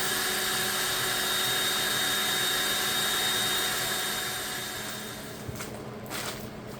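A steady motorized whir of red paint being machine-mixed for a McCormick W6 tractor restoration, running loud and continuous before easing off near the end, with a few brief knocks.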